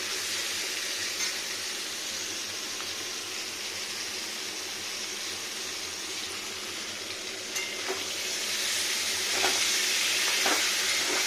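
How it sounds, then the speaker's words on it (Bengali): Carrot, beans, eggplant and potato fry in a pan with salted water, a continuous close sizzle and hiss with faint scrapes of stirring, growing slightly louder toward the end, no voices. "লবণ জলটা মিশে যাক ভালো হয়ে, ভাজা যাক আর একটু"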